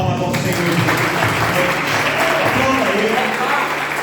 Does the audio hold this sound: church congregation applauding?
yes